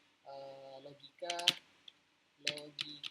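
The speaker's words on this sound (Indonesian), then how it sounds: "kita bisa ngetik logika," Short bursts of typing on a computer keyboard, a few quick clicks in two clusters, close and fairly quiet, alternating with someone speaking.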